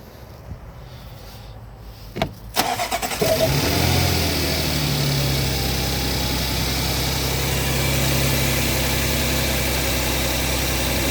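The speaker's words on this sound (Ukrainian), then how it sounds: "Холодний запуск, мотор холодний, після ночі питань нема." Audi Q7 with a 3.0 turbo petrol engine cold-starting: a few faint clicks, the starter cranks briefly, then the engine catches with a rev and settles into a steady, even idle, heard close up with no talk.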